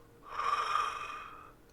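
A big breathy yawn, loud and drawn out, swells and fades over about a second in a quiet room, part of a told children's story.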